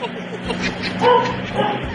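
A dog gives a couple of short yipping barks amid people talking and background chatter.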